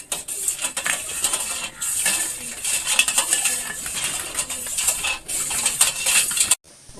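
A metal spoon clinks and scrapes rapidly against a glass or cup, stirring two spoonfuls of tea sugar into water, a busy continuous rattle that stops abruptly near the end.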